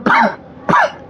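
A man coughs twice, two sharp close bursts a little over half a second apart, loud and alone during a class lesson.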